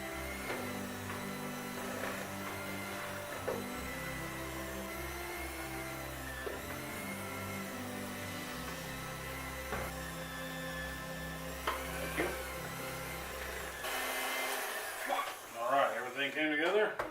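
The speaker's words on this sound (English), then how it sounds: "So mixer on low, and we're just going to mix this until it's incorporated." An electric mixer on low speed works chocolate chip cookie dough, giving a steady low motor whir that runs throughout under continuous talk, with a few louder clatters near the end.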